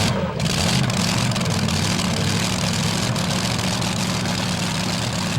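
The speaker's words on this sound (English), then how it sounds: "Tractor pulling at its best" A tractor competing in a truck and tractor pull roars with a loud, sustained, heavy engine drone that holds steady throughout, dense and close without pause.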